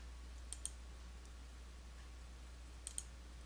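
Computer mouse clicks while working in QuickBooks Desktop, two quick double clicks spaced a few seconds apart, faint and close over a quiet low hum.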